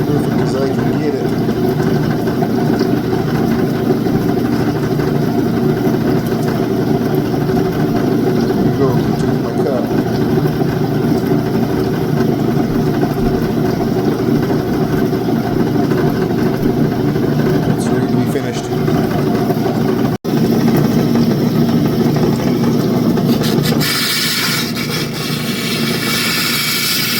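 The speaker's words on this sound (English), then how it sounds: "This wheel's loud." A loud lapidary grinding wheel runs steadily on opal rough, a constant droning whir filling the whole stretch with no pauses, close and dominant.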